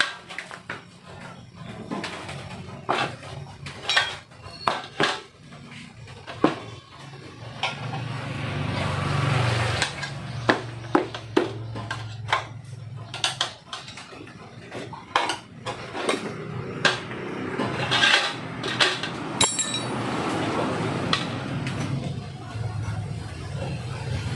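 A tire with an inner tube being fitted onto a wheel rim by hand, a long run of irregular metallic knocks, clanks and scraping rubber, some strikes sharp and close, with steady working noise underneath.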